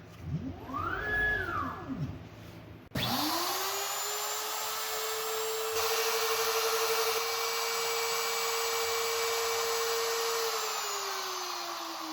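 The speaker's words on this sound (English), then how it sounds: "Got my plastic router bit going on, so we'll see how this goes." A router fitted with a plastic-cutting bit spins up with a rising whine, then cuts into a small glued plastic piece on an aftermarket Evinrude power trim switch, a loud steady high-pitched buzz continuing close by.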